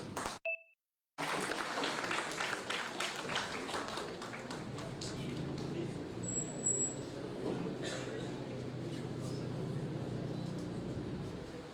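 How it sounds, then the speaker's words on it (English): Applause for the chief guest, the Vice Chancellor of MPU Udaipur, at an international business conference: a dense, sustained spatter of clapping filling the hall after a brief gap, steady and moderately loud throughout. "Please give a huge round of applause for him."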